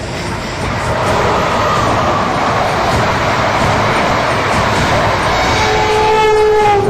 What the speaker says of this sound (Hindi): बुलेट ट्रेन से पहले आ गई टेल्गो ट्रेन।